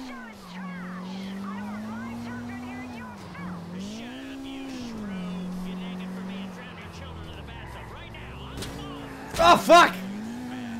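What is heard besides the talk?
car driving and tires squealing in video game GTA 4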